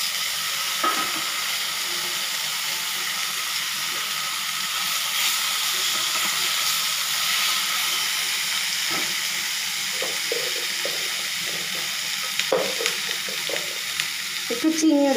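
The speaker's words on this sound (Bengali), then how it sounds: "এবার আমি টমেটোটা দিয়ে দিলাম।" Tomato frying with lentils in a pan, a steady close sizzle and hiss throughout with occasional stirring clatter near the end.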